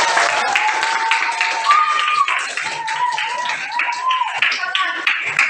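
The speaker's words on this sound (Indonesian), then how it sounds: "kasih tepuk tangan ya untuk Pak." Students of class 8B clap their hands together in a classroom, a brisk, close burst of clapping mixed with cheering voices throughout.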